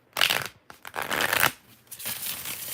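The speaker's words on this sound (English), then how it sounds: "4 shuffles." Tarot cards being shuffled by hand, three close bursts of riffling and sliding card noise separated by brief pauses, fairly loud with no voices.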